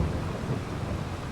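Rain pours and thunder rumbles in the farming game Farming Simulator 22, a dense, steady roar of downpour with heavy low rolling, loud and continuous with no talk.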